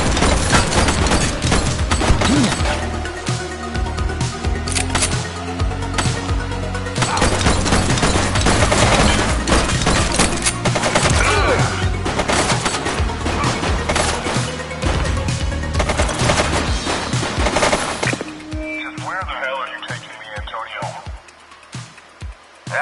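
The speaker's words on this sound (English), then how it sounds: "She's shooting!" A shooter in The Precinct video game lets off dense, loud bursts of rapid gunfire with crashing impacts, while shouting voices and game music swell underneath. The volume drops off sharply near the end.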